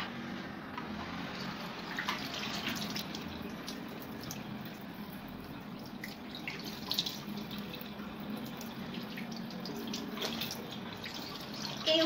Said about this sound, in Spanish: Me estoy lavando, chicos, con agua tibia.